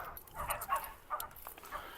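A Rottweiler whimpers softly in a few short, faint whines and yips, close by and quiet with no talk over them.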